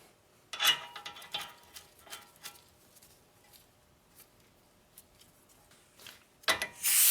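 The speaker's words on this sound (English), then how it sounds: "So I'm gonna tighten the nut over here." A ratchet turns down the outer tie rod nut on a Ford Freestyle, giving short bursts of clicks close by. Quieter taps and rubs fill the gaps, and a loud clatter comes near the end.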